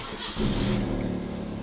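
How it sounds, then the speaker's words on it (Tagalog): Car engine cranking and catching after the key is turned during a check-engine-light fault code diagnosis, then settling into a steady loud idle close by. "And start po natin yung sasakyan."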